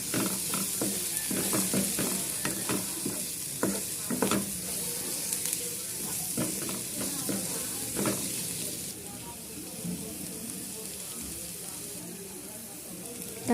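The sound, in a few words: tomatoes frying and stirred with salt and turmeric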